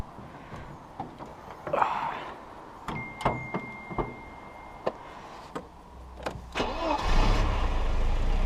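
A Mercedes 190E engine cranks with a series of short sharp bursts, then catches and settles into a steady low idle that fills the end of the recording.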